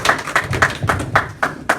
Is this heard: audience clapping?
yes